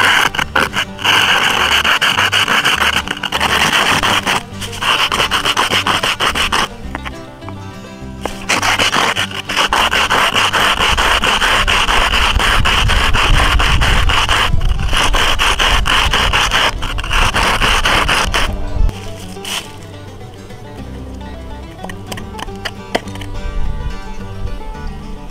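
An upside-down metal can is rubbed against concrete to wear away its lip, giving a loud, steady rasping scrape that runs continuously with brief pauses and no talking.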